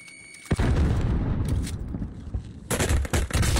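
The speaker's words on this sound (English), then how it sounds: "Throwing frag." A frag grenade blast and gunfire in a competitive video game match, a sudden heavy boom after a quiet start, then dense rumbling explosion noise and another sharp burst of shots near the end.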